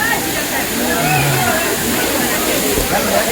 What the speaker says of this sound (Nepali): दामी वाटरफल छ